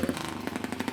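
A small twin-cylinder motorcycle starting up and revving at a New Zealand street race, its rapid, rough pulsing exhaust beats close and steady through a brief burst.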